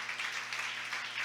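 A church congregation claps in praise of the Lord, a brief burst of fairly faint, even applause.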